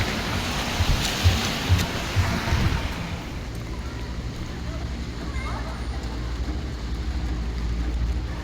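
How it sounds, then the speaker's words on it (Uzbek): Heavy rain pours outdoors as a dense, steady hiss. It is louder at first under a speaking voice, then settles into a constant wash of noise. "Yomg'ir yog'yapti rosa."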